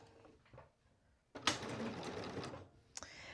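A sewing machine zigzag-stitches elastic onto knit fabric along a seam allowance. After some quiet handling, a loud, close, steady whir runs for about a second and a half, then stops.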